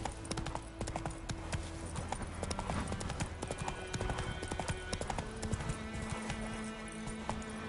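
Hooves of Roach, the horse from the video game Witcher 3, clip-clop in a fast, even gallop, loud and near, with a dense musical background throughout.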